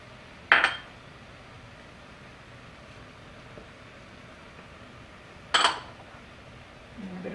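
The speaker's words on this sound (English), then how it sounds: "now we're gonna start throwing everything that you have, all your ingredients in the pot except the green beans" Vegetable beef stew ingredients are tossed into a cooking pot, giving two sharp metallic clanks about five seconds apart over a quiet background hum.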